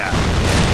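A fragmentation grenade goes off in a first-person shooter game, a single loud, broad boom that starts abruptly and holds steady through the short moment, close and dominant.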